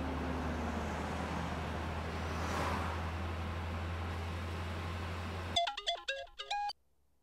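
A phone call is placed and rings out: a steady low engine or road hum runs first, then the electronic ringtone sounds loudly for about a second before cutting to silence.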